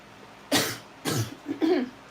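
Three short, dry coughs from a person indoors, close and fairly loud, evenly spaced about half a second apart with quiet between them.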